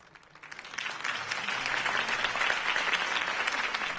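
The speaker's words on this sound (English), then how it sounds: "If only Mr. Wayne, my campaign's largest backer, could have heard that applause" Crowd applause from the Telltale Batman video game, following a campaign speech: clapping swells in over the first second, then holds as a dense, steady roar of many hands.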